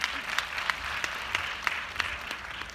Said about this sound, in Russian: Аплодисменты Светлане